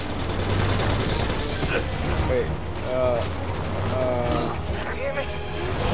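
Gunfire in the video game Resident Evil 6, bursts of shots and impacts scattered through a busy game mix with mechanical clatter, while a person talks over it.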